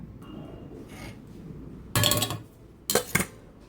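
Boiled garlic and ginger are poured from a cooking pot into a metal strainer over a bowl, giving two short bursts of clattering, splashing sound against a quiet kitchen background.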